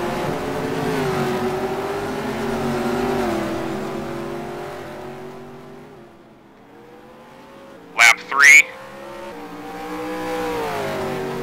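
Race cars lapping the Bathurst circuit in a racing game, engines droning and revving steadily as they slide through a corner, with a brief sharp burst near the end and a commentator speaking over the engine noise.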